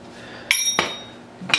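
Three sharp, ringing metallic hammer blows drive an old bearing race against a new triple tree bearing on a 2016 Africa Twin, spaced unevenly and close up, with a quiet hum between strikes.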